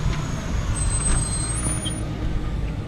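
A small city bus on the Rosa Parks route in Montgomery, engine droning steadily from inside the cabin with a brief air-brake hiss amid the continuous ride noise.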